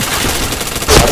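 Rapid gunfire from a shooter video game, a loud dense burst of shots filling the short moment and swelling slightly toward the end.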